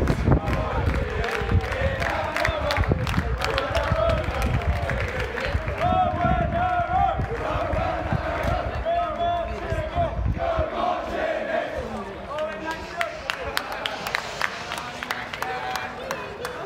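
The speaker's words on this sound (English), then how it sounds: "It's a good crowd." A school cricket crowd at Lord's for Eton vs Harrow, a dense outdoor roar of many voices cheering and shouting with scattered claps, loud and continuous before easing slightly toward the end.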